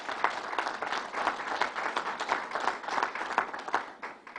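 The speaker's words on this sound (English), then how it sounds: "And let's give them a round of applause." An audience applauds at a Belmont Park announcement by Governor Cuomo, steady crowd clapping with a pulsing texture that continues for several seconds without talk.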